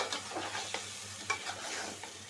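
Ash gourd being stirred into a frying katla fish-head masala, with a steady close sizzle broken by a few sharp scrapes of a spatula against the pan, no voices.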